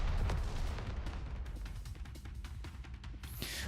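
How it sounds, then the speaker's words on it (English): A wall blown apart by an explosion in the video game NIKKE, heard as a loud, dense rumbling blast with crackling debris and bursts that continue throughout, ending in a bright hissing rush. "The wall flies apart in the explosion."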